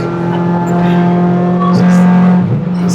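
A 2000 Honda Civic Type R EK9 with its 1.6-liter VTEC engine drones at a steady, high-pitched pitch throughout, close and loud, with talk in the car over the engine note.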